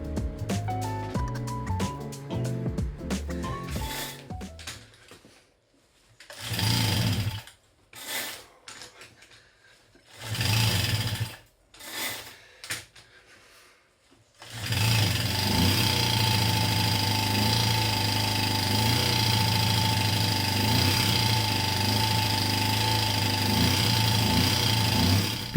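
Rebuilt Raleigh Wisp moped engine turning over in several short bursts before catching and running steadily, a loud, even mechanical drone with rattling texture that continues to the end.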